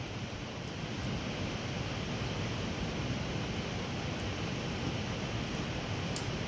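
Water rushes steadily through a hole during a rinse at a chemistry lab bench before hydrochloric acid work, a constant broadband hiss and splash filling the whole stretch with no pauses and no talk.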